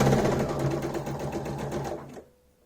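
A sewing machine runs a fabric seam on a skull-shaped piece with teeth, giving a fast, even close-up whir for about two seconds before cutting off into near silence.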